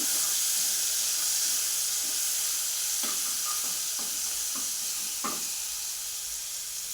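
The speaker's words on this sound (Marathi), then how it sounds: "तेल तापलं की आपण ह्याच्यामध्ये लसूण आणि कोथिंबीर टाकून घ्यायची आणि एक मिनिटभर परतायची" Garlic and coriander sauté in hot oil, giving a loud, steady sizzle and hiss throughout, broken by several soft scraping stirs of a spatula in the pan.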